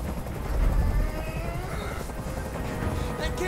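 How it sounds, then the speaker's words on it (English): A helicopter in the video game Detroit: Become Human, a continuous droning rotor chop that swells and fades slightly, fairly loud and heard with no voices. "I can't stand that noise anymore. Tell that helicopter to get out of here."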